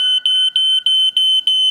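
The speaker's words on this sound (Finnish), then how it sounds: "Palovaroitin." A household smoke alarm sounds its piercing high beep in a rapid, regular pulsing pattern, loud and close with nothing else heard.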